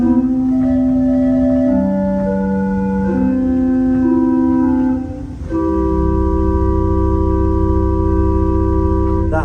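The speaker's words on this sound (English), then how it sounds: "the first stop on the grate is a 16-foot board, and it's a flute, and it sounds like this" Sustained pipe organ chords on a deep flute stop, soft and rounded with a heavy low rumble, notes changing slowly and holding steady throughout.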